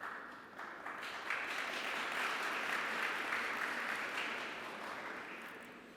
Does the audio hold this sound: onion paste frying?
no